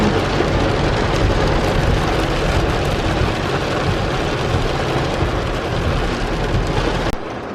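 Heavy rain drums steadily and loudly on a moving car at night, a dense continuous wash of noise with road rumble beneath, cutting off abruptly near the end.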